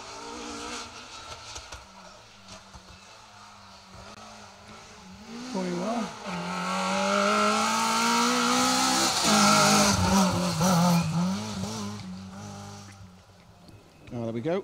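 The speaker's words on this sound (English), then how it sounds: "It's Jess Campbell in the Peugeot" A Peugeot rally car drives an asphalt rally stage at the Argyll Rally, its engine rising and falling through gear changes as it passes from moderate distance, while a commentator talks over it.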